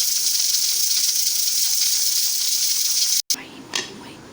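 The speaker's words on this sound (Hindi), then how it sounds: "जैसे कि मैंने आपको दिखाया था कि हमारा प्रेशर कुकर चल रहा है।" A pressure cooker hisses steadily and loudly while cooking whole masoor lentils, a continuous bright steam rush that cuts off abruptly near the end, followed by a few quieter bursts.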